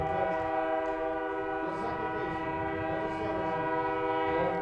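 A Canadian Pacific train passes near a high school baseball field in Minot, its horn sounding as a loud, steady sustained chord over the low rumble of rolling wagons, with faint voices in the background.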